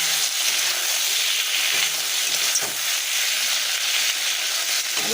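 Green beans, raw tomato and mustard paste sizzle and fry steadily in a pan, a continuous close hissing crackle with light stirring, no talk.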